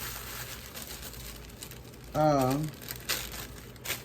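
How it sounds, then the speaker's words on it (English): Aluminum foil crinkles close by as it is pressed over a squash casserole dish, a soft papery rustle with a brief vocal sound over it partway through and a couple of light taps near the end. "And also, I'm going to put aluminum foil over this."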